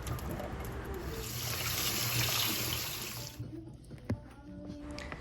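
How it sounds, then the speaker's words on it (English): Canned black beans being rinsed under a running kitchen tap, a steady close rush of water for about three seconds that cuts off, followed by a few light clicks and clanks of the can and sink. "we're going to grab a can of black beans and we are going to open it, drain it, and rinse it"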